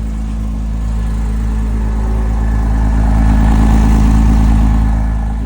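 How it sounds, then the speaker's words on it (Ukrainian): A Porsche car engine runs steadily and close by, with a deep rumbling idle that swells slightly as if revved gently, with no voices. "завівся у нас Порше"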